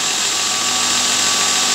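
A homemade belt grinder runs steadily, its motor giving off a continuous broadband whir with a strong high-pitched hiss, loud and close, with no talking.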